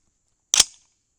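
A single suppressed .22 Nosler rifle shot fired through a chronograph, one sharp crack with a brief fading tail and silence around it.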